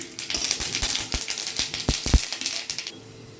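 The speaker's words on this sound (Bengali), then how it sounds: "এখানে হচ্ছে শুকনো লঙ্কা আর হচ্ছে সর্ষে নিয়ে নিয়েছি, এখন ফোড়ন দিচ্ছি।" Mustard seeds and dried red chillies spit and crackle in hot oil during a tempering, a dense run of sharp irregular pops and ticks up close with no talk over it.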